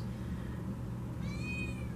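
A house cat gives one short meow toward the end, fairly close but soft against a quiet room hum, with no talk.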